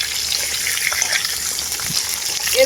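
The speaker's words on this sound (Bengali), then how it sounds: "মাছের ঝোলের জন্য সজনে ডাঁটা আর আলুটাকে অল্প একটু ভেজে নেবো" Drumstick pieces and long-cut potatoes being lightly fried in hot oil in a pan, producing a steady, close, continuous sizzle that stays even throughout with no talking.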